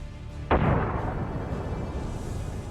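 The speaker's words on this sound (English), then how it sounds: "As soon as the tank enters the village, it's attacked by drones." A drone strike explosion hitting an armored fighting vehicle in a village: a single sharp, loud blast about half a second in, followed by a fading boom and lingering rumble.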